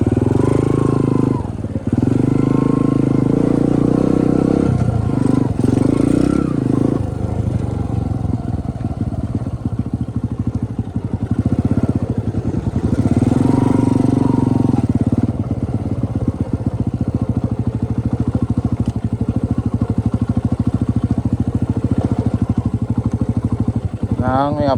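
A trail motorcycle rides along a dirt trail, its engine droning, revving and clattering throughout, with people talking over it at times.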